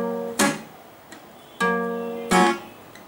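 Muted acoustic guitar strings strummed for the intro riff of a song, three short damped chord strokes with quick decays, played alone and close.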